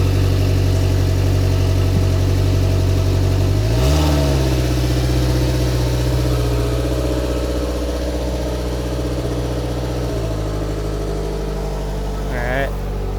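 A Polaris Slingshot three-wheeler's engine idles steadily, then revs briefly around the middle as it pulls out, settling back to a close, continuous rumble, with a short second rev near the end.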